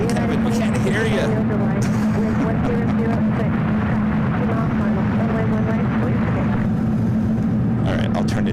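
Aircraft at SFO airport produce a loud, steady jet-engine roar with a deep rumbling hum that continues throughout, with voices talking over it.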